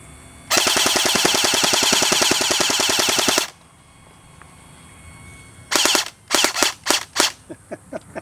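A full-auto Barra 400E BB gun empties a magazine in one loud, continuous rapid-fire burst of about three seconds, then after a pause gives several short separate bursts and single shots, with no talking.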